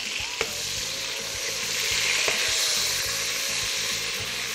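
A hot pan sizzles and crackles steadily as cold liquid is added to deglaze it, with a few sharp clicks over the constant frying hiss.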